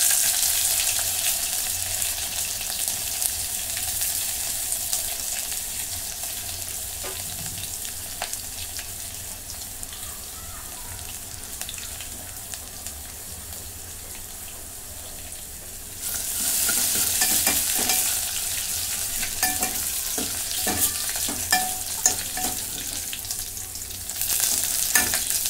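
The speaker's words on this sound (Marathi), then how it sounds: "लसूण चांगला खरपूस भाजून घेते." Cumin seeds and crushed garlic fry in a hot pan with a steady, close sizzle, joined by scraping stirring that grows louder and busier in the second half.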